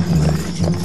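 Horses' hooves clip-clop in a steady, close, continuous patter over low rumbling background, in an animated fairy-tale scene about a king's horses, with no speech.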